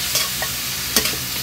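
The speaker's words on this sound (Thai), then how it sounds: "ผัดให้เนื้อดุ้งนะครับผัดให้เนื้อดุ้ง" Shrimp and garlic stir-fry in a hot pan, with a loud constant sizzle broken by a few quick spatula scrapes and taps.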